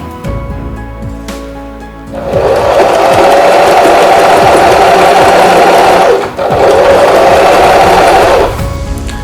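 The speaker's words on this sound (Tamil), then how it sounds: "இப்போ வந்து மெஷின் ரன் பண்ணி நான் ஸ்டிச் போட்டுக்கிறேன்." A Singer Start 1306 sewing machine runs steadily, stitching a buttonhole. A loud, continuous mechanical whir lasts about four seconds, breaks off briefly, resumes, then stops, with no voices.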